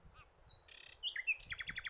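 A nightingale sings a quick, varied phrase: a thin whistle, a buzzy note, then bright chirps and a rapid trill. Faint and alone, with no voices.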